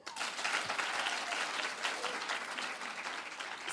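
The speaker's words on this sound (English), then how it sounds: "Now let's clap." Dense, steady audience applause at a women's groups gathering at State House, many hands clapping together as an even wash of sound that holds for the whole stretch.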